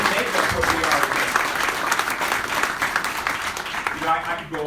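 An audience at a mayor's award event breaks into sustained applause, a dense wash of clapping that fills the room for several seconds, with a voice speaking over it.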